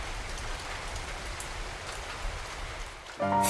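Rain in the video game Tales of Xillia, a steady even hiss of rainfall on surfaces, moderately loud, with a sharper sound cutting in at the very end.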